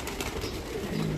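A female pigeon coos softly, a low murmuring call heard close by for about a second with no talk over it.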